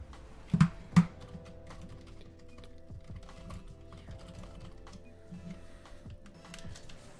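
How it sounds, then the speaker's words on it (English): Fast typing on a computer keyboard during a car-soccer video game, a steady stream of quiet close key clicks with two louder taps near the start and no speech. "I'm typing and playing"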